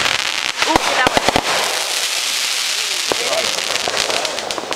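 Fireworks at a 2011 July 4th show crackle and pop in a quick cluster of sharp bursts, followed by a sustained fizzing crackle, while people talk nearby.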